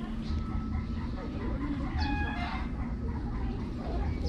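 A backyard farm chicken clucks briefly over a steady wash of outdoor noise, with a voice speaking nearby.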